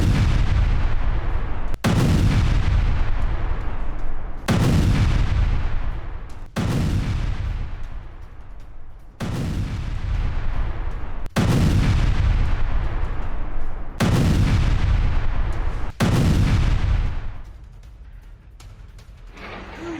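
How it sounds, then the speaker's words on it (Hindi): Heavy artillery booms about eight times at regular intervals in a war zone strike on a howitzer, each blast loud and rolling off into a long rumbling decay. "रूसी सैनिकों ने आर्टिलरी हमले में अमेरिकी होवित्जर तोप को तबाह कर दिया है।"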